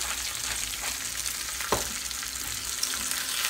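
Baby spinach sautéing in a pan with pepper and salt gives a steady broadband sizzle throughout, with one sharp utensil scrape near the middle and faint stirring movements, no voices.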